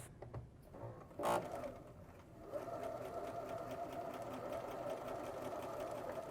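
A sewing machine stitches skirt panels with a regular stitch length, humming steadily and close for several seconds after a few brief knocks and a short pause at the start.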